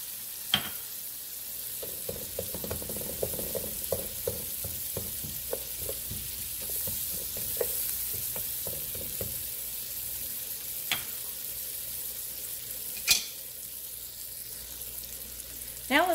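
Onions sizzle in a hot buttered pan with a steady hiss, broken up by a run of scraping and stirring clicks and a few sharp knocks from the utensil.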